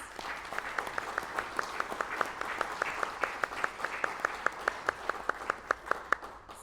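A session audience applauds with a steady, rhythmic clap beat standing out above a dense wash of applause, sustained for several seconds at moderate volume.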